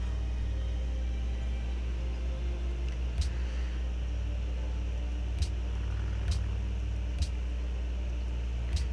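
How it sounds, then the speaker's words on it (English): Steady low whirring hum of an electric fan running in the background, faint and continuous, with a few soft clicks. "that sound you're hearing in the background, that's still my fan"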